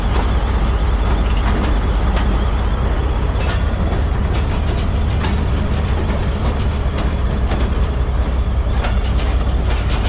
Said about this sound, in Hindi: लाड़काना जंक्शन ट्रेन हमारी प्लेटफॉर्म लाइन पर अप्रोच बनाते हुए